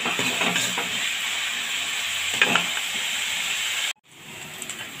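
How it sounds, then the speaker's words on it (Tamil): Onions sauté in a pan for a prawn gravy with a steady soft hiss and sizzle, cutting out for a moment near the end before returning more quietly. "வெங்காயம் நல்லா வதங்கட்டும்."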